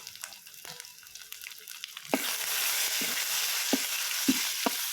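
Cumin seeds hit hot oil for a gongura dal tempering, bursting into a loud, steady sizzle about two seconds in that carries on to the end, with a few sharp clicks of a spoon against the pan.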